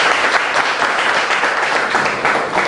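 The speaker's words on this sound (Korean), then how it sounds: "좋은 강의 해주신 우리 정태인 원장님께 더 힘찬 박수 좀 부탁드리겠습니다" A lecture audience applauds a speaker at the close of a talk, dense sustained clapping from many hands filling the hall, loud and even throughout.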